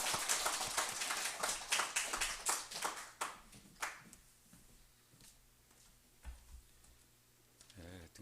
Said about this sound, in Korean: 우리 목사님 나오실 때 박수로 한번 하는 게 하겠습니다